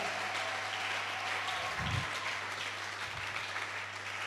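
A church congregation applauds and cheers in worship, a dense continuous roar of clapping and voices filling the hall, with a steady low hum beneath.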